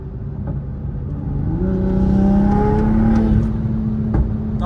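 A 700 whp turbocharged Toyota Supra accelerates hard, its engine note swelling and climbing steadily in pitch as it pulls through a gear, loud and close from inside the car, with no voices.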